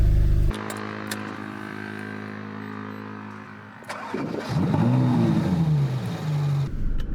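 A Ferrari 458 Italia V8 fires up after sitting unused, a sharp start settling into a steady low idle, then a second blip climbs into a rising rev before easing back, close and loud.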